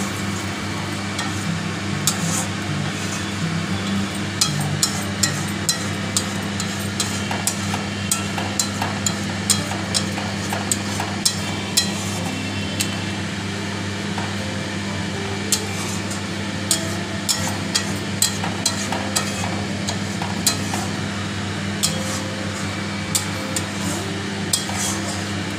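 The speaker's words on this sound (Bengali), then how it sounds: "নেড়ে নিই ভালো করে।" Prawn curry being stirred in a pan with a spoon, steady sizzling under frequent light scraping and clinking strokes against the metal, continuing evenly throughout without any talking.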